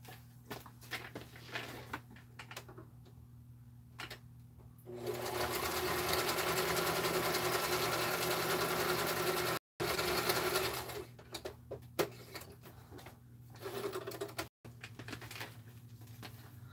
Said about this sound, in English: I'm going to run to the sewing machine real quick